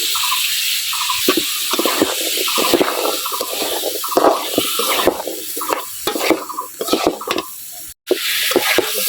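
Potatoes for an egg and potato curry sizzle in a pan while being stirred, with repeated scraping and clattering strokes over a steady frying hiss.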